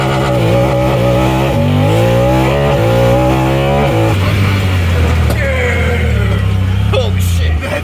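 Honda Talon side-by-side on a launch control start, with a loud, close engine revving hard and climbing through several stepped pitch rises before settling into a steady high drone as it accelerates.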